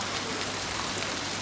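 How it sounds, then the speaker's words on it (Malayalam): Fountain water falling steadily at a setting in Osh, Kyrgyzstan, making a continuous, even rain-like hiss that holds without a break from start to finish, with no voices. "ഈ ഫൗണ്ടൻ പോലെ ഇങ്ങനെ വെള്ളം വീണുകൊണ്ടിരിക്കുന്നുണ്ട്"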